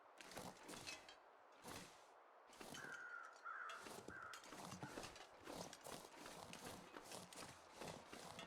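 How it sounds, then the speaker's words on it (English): Crows caw repeatedly amid a busy game soundscape in The Long Dark, harsh calls mixed with rhythmic hoof-like thuds and other effects, moderately close. "those crows that I'm hearing are already circling the dead deer"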